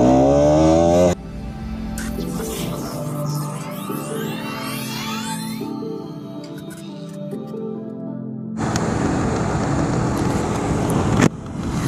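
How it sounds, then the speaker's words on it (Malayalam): A Bajaj Pulsar RS200 motorcycle engine gives off a steady, plane-like droning hum that runs throughout, with shifting tonal whines in the middle and a louder, rougher roar near the end. "ഇതാ ഞാൻ പറഞ്ഞ ആ പ്ലെയിൻ പോലത്തെ മൂളുന്ന സൗണ്ട്"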